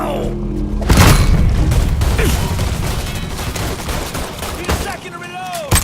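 Gunfire in the Mafia III video game: a loud close boom, then a dense burst of rapid shots and rumbling blasts that fade into scattered later cracks, with a voice briefly audible.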